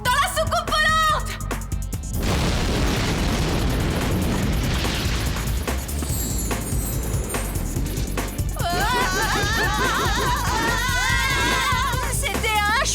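A cartoon bomb blows up inside a flying saucer, a loud, sustained roar of rumbling blasts and debris with layered effects and whooshing tones over a thick mix, alone without talk.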